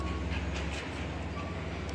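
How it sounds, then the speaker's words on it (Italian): A Trenitalia regional train from Roma Termini bound for Cassino arrives at Ferentino-Supino station, giving a steady close rumble of rolling wagons with a low mechanical drone throughout. "Il treno regionale il nostro 6-5 Trenitalia proveniente da Roma Termini e diretto a Cassino"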